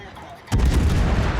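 Heavy naval turret fire from a Napoli cruiser in World of Warships, a single loud booming salvo that bursts in abruptly and rumbles on as a sustained low roar.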